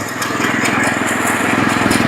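A lawn mower engine idles steadily on a grassy lawn with a constant, moderately loud running drone and no clear changes in pitch.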